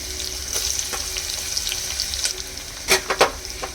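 Sliced onion shallow-fries in hot oil with cracked cardamom pods in a pan for a vegetable pulao: a steady, close sizzling hiss, with a few sharp clatters near the end.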